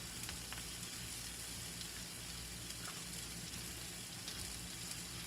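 Flour and onions sizzling in a pan for cube steak gravy, a steady, soft crackle and hiss with tiny pops throughout and no talking.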